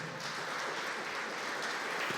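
A church congregation applauds in a steady, dense wash of clapping that stays faint and even throughout, with no voices standing out.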